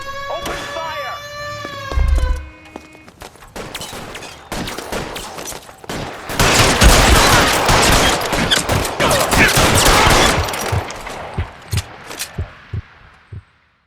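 Shootout in the video game L.A. Noire: dense bursts of gunfire and rapid machine-gun-like volleys rattle on for several seconds, loud and close, following a brief tonal game sound at the start.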